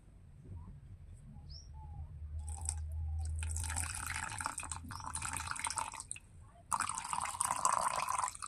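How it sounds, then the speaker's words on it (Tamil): Water, 275 grams of it, is poured into a homemade hair gel mixture. A steady liquid splashing and trickling is heard nearby, starting and stopping, with a brief pause before a louder pour. "இப்போ இரநூத்தி எழுபத்தி அஞ்சு கிராம் வந்துட்டு வாட்டர் ஆட் பண்ண போகிறேன்"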